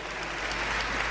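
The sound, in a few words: church congregation applause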